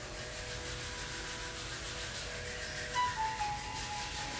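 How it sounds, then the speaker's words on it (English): Palms rub together in a steady soft swishing during a guided meditation, a faint close friction sound over a quiet background hum. "Release your hands, rub your palms."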